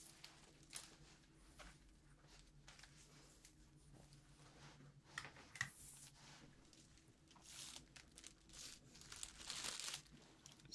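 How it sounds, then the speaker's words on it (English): Faint close-up crinkling and crumpling, like plastic or paper being handled, comes in irregular rustling bursts with brighter crackly peaks toward the end, quiet overall and without speech. "some crinkly sounds."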